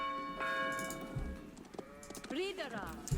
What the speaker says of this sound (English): But here comes all of our sheep.